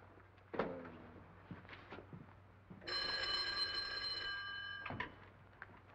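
An old-fashioned telephone bell in a 1939 Chinatown mystery film rings in one sustained burst lasting about two seconds, clear and fairly close, with faint room noise and footsteps around it.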